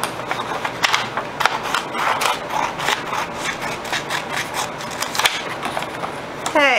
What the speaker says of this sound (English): get your scissors, and follow that line to cut.